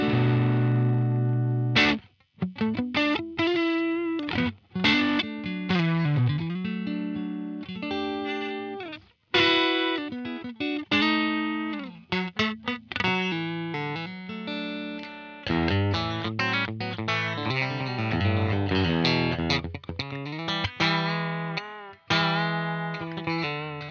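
Electric guitar played through a UAFX Dream '65 Reverb amp pedal with the stock Deluxe Reverb speaker setting, all controls at noon, boost off and no vibrato: a close, continuous run of chords and single-note lines with brief gaps.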